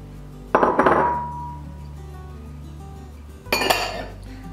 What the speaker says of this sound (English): First thing I'm gonna do is take a medium-sized bowl here, and I'm gonna dump my flours in.